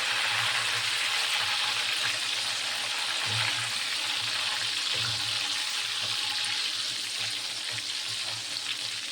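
Potato wafers fry in very hot oil after salt water is added, giving a continuous close bubbling hiss with a low churning undertone that eases slightly toward the end.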